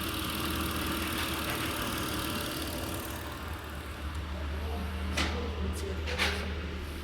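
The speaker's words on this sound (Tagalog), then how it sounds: "yung andar ng makina pumino" A Mitsubishi Pajero engine idles smoothly with a steady low hum, close by, with a few faint clicks and taps near the end.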